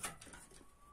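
Soft pigeon cooing in a quiet space, a brief low murmur with faint rustling and a thin steady tone in the background.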